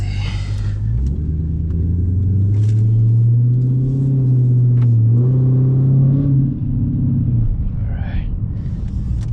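Dodge Charger SRT-8 engine rumbling from inside the cabin while driving, a deep steady drone that rises in pitch as the car accelerates, then eases off, with some voice briefly over it.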